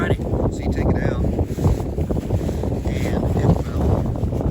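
Strong wind buffeting the microphone at a tarp campsite, loud rumbling gusts throughout with rustling, and a person talking underneath.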